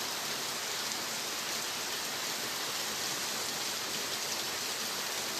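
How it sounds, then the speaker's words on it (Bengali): Heavy monsoon downpour, a dense, steady roar of rain drumming on surfaces that holds constant and loud throughout with no voices. "দেখুন, মুষলধারে বৃষ্টি হচ্ছে"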